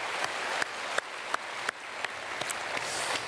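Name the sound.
church congregation applause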